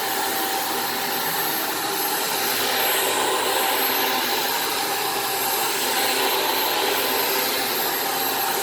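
A Shark Apex DuoClean vacuum cleaner runs steadily in a living room, giving a loud, constant whirring whine with no voices.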